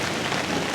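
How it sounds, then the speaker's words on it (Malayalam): Rain falling steadily, a soft even hiss of drops across the whole brief moment, with no voices. "നല്ല മഴ വരുന്നുണ്ട്."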